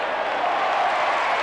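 Roaring football stadium crowd at a 1994 Western Bulldogs match, a broad, steady wash of cheering that stays loud and even throughout, with no distinct voices standing out.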